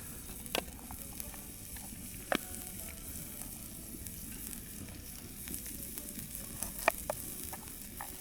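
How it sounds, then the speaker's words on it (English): Onions sautéing in butter in a frying pan over an outdoor fire at sunset produce a soft, steady sizzle with occasional sharp pops and crackles, close and fairly quiet, with no talk. "I saute the onions in butter for a while so they become perfectly tender"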